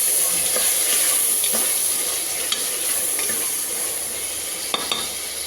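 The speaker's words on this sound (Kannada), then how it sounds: "ಟೊಮೊಟೊನೂ ಕೂಡ ಸೇರಿಸ್ಕೊತಾ ಇದ್ದೀನಿ" Chopped tomatoes fry in hot oil in a pan for capsicum rice bath and are stirred throughout. A close, continuous sizzle runs under a spoon scraping the pan, with a few sharper clinks and no talking.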